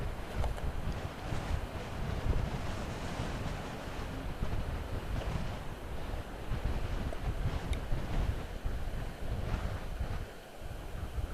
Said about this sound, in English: Bit windy.